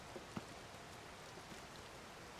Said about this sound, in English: I'm curious if there is a way to make it stop raining here